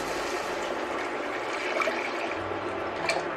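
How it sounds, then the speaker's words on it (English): Three cups of water pour steadily into a cooking pot as vegetables and lentils wait to go in, a continuous close splashing stream lasting several seconds without talk. "now we are going to add 3 cups of water into here"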